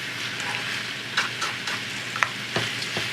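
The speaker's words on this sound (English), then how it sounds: "All that meat browning." Meat browns in a pan with a constant close sizzle and occasional spatter pops and stirring scrapes cutting through, no voices heard.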